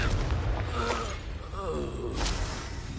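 Confringo fire spell in Hogwarts Legacy, a dense crackling blast with shattering and whooshing layers that stays loud throughout, with a swell near the end and a voice faintly underneath.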